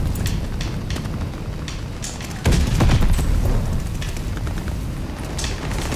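Shotgun blasts in a first-person video game keep rolling on as a dense barrage under continuous battle noise, with a heavy, booming burst near the middle and no talking.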